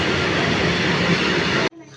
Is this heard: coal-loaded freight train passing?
yes